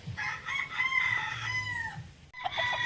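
A Golden Boy straight comb gamefowl rooster crows loudly and close by, one long drawn-out call followed by the start of a second crow, with clucking fowl and farmyard noise in the background.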